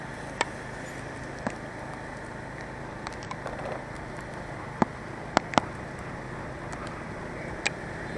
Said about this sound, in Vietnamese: Bữa nay đi trời mưa nên phải trang bị luôn áo mưa cho camera luôn.